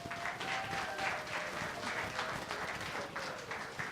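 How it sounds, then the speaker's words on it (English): An audience at a live comedy show applauds a comedian as he takes the stage, a steady, dense wash of clapping that keeps up throughout at moderate loudness. "I didn't deserve those applause"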